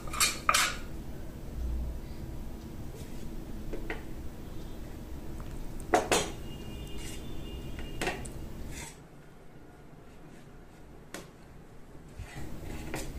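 A spoon works through warm rice flour dough in a bowl, making sporadic clinks and taps against the sides with soft mushy scraping between them, fairly quiet and close with no speech.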